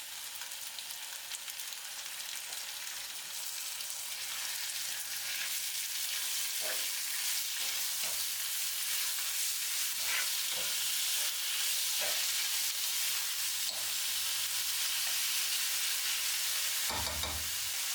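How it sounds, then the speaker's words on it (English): Chicken pieces sauteing in a hot pan for a creamy risotto, an unbroken bright sizzle and frying hiss at close range, punctuated by occasional stirring knocks and scrapes, with no talking. "Add the meat and saute it until it's no longer pink and turns a nice seared brown"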